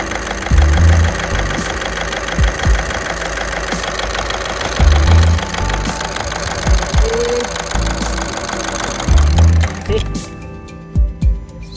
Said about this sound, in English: See, the engine reacts. That means the injector 2 is good.